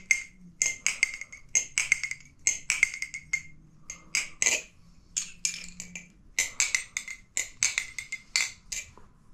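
Rapid metallic clicks and clacks in quick bursts, a Thomas Balisong Baikal butterfly knife being flipped open and closed repeatedly, crisp and close with short pauses between runs.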